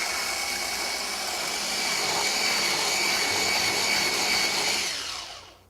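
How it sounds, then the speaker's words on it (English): An electric mixer whisks cream with sugar for a blueberry fool, a steady high whirring drone that runs continuously and then winds down at the end, with nobody talking. "And now I'm just going to start whisking."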